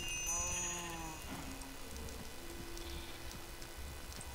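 Sheep in the Minecraft video game bleat over a busy wash of rain-like game noise and music, with one clear call near the start and fainter bleats after it.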